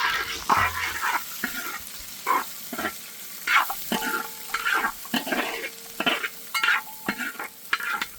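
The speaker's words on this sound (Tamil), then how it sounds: "கடலை பருப்பு நல்லா பொறிஞ்சு வந்துருச்சு இந்த நேரத்தில் வெங்காயத்தை சேர்த்துக்கிறோண்ணா" Chopped onions frying with chana dal in hot oil while being stirred, a steady close sizzle broken by repeated scraping bursts of the spoon against the pan, with no voices.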